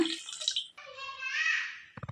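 Water poured into a cooking pot holding goat legs for paya, a steady splashing pour lasting about a second, with brief clattering of metal at the end and a short voice before it.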